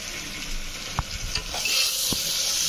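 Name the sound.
stirring spices and salt in frying pan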